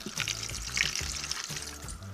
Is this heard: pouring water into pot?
yes